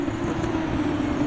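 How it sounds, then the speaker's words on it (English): An F2 race car in F1 24 at the Las Vegas track, heard from trackside as a steady, fairly subdued engine drone with a low hum, constant and unbroken for over a second. "from the track side, as you can see here, that's not a very loud car at all"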